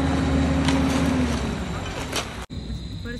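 Road construction vehicles building a new road near the SE Complex gate in Tezu, a continuous low engine rumble with scraping and clanking that stops abruptly, quieter background afterward.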